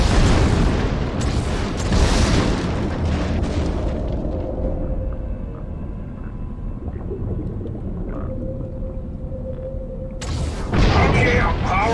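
Mounted guns and explosions rumble through a Gears of War 3 battle, a dense, loud barrage of booms and bursts that thins out midway and swells again at the end, with voices talking over it.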